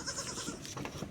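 A goat bleats in a rural village, a short, wavering call heard fairly close over faint background noise, with no talking.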